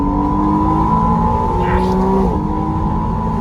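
A 2025 McLaren Artura Spider powers out of a corner on the track, its engine holding a loud, continuous droning note whose pitch climbs gradually before easing, heard close throughout.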